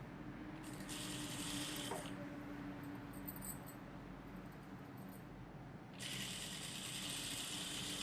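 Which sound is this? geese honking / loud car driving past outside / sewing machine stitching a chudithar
sewing machine stitching a chudithar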